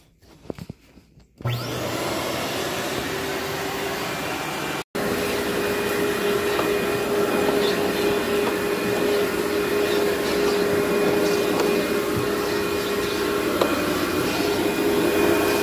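A vacuum cleaner runs steadily and loudly on carpeted stairs, starting up after a brief quiet moment and humming continuously with a short cut-out partway through.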